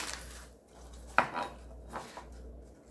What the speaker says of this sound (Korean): 송송송송 썰어주세요.